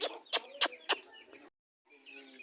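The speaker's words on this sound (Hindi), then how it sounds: "ये हमारी जो अंदर मुर्गी ठहरी है ना, ये इसके साथ कैसे लड़ रही है" A hen fighting another hen gives several sharp, agitated clucks close by in quick succession, then a brief silence before softer clucking resumes.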